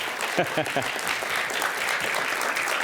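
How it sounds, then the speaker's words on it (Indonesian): An audience claps for Bung Henry as he is welcomed onstage at a talk event, dense applause running throughout with a voice briefly speaking over the start. "Kita berikan tepuk tangan Bung Henry"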